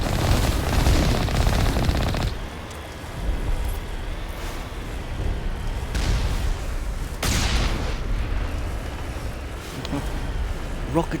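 Dense, loud combat in Mass Effect: sustained automatic gunfire with heavy booming blasts from a rocket, continuous and close, broken by brief lulls and fresh impacts, with a voice talking over the fighting.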